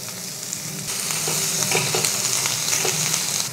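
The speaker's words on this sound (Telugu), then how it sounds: "ఈ ఉల్లిపాయల్ని 2 నిమిషాలు వేయించుకోవాలి" Onions frying in oil in a pan while a masala fish fry is being prepared, giving a steady, loud hissing sizzle with a few soft stirring knocks. Close and continuous, with no talking.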